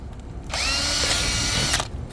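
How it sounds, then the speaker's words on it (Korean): A drill drives a self-tapping screw through metal in one loud, continuous whining burst of about a second and a quarter. It starts and stops sharply, close up and alone. "그래서 쇠를 뚫는 피스못이 있습니다"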